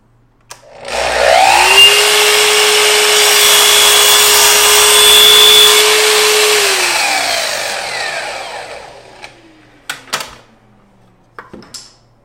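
A Festool Kapex miter saw spins up with a loud whine, cuts through a board of thin-veneer birch plywood for several seconds, then winds down, with a few clicks and knocks afterward.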